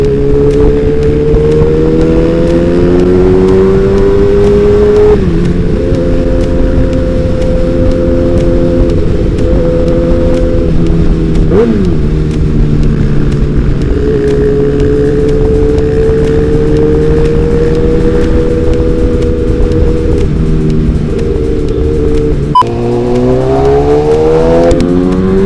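A Kawasaki ZX10R motorcycle engine roars loudly and continuously up close, its pitch rising and falling with repeated revs and brief dips throughout.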